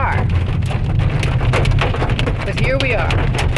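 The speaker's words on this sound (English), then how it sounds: "here we are in a hailstorm looking for shelter and also praying that nothing the size of a brick hits this car" Hail pelts a car during a hailstorm in the Andes near Mendoza, a constant dense rattle with sharper individual clicks and taps on the body and glass, while a voice speaks over it inside the car.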